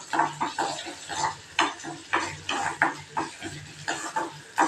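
Black urad dal is dry-roasted in a pan with rhythmic stirring, about a dozen scraping, rattling strokes with a faint sizzle between them, close and clear with no speech.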